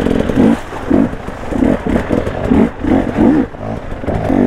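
A dirt bike engine revs repeatedly on an enduro ride, loud rhythmic blips rising and falling about every half second, up close with no talking.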